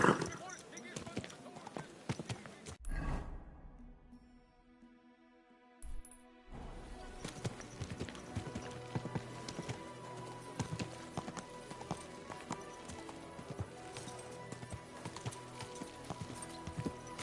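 Rhythmic clip-clop of horse hooves in Kingdom Come: Deliverance 2 alongside speech and background music, with a short quiet pause in the middle.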